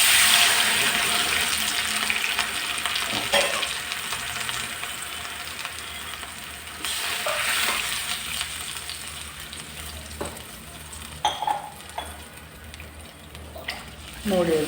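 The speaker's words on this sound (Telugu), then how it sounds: "మనం ఇందులో వాటర్ వేసుకుందాం." Water is poured into a hot, sizzling tempering in a pan while making upma, giving a steady close sizzle with hissing bursts and brief splashing surges.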